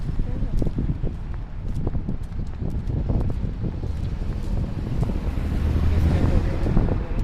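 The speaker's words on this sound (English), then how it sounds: "it's windy. Wow, that's a breeze." Steady wind buffets the microphone with a low, rushing roar, growing slightly stronger toward the end.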